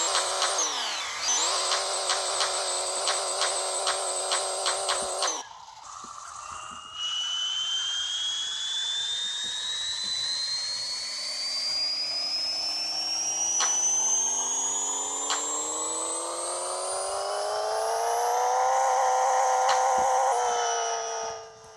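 Engine of a tuned Nissan 300ZX revving on a dyno in Pixel Car Racer: a buzzy, synthetic note with a stuttering limiter, a brief cut, then one long steadily rising pull to a high-pitched peak before dropping off.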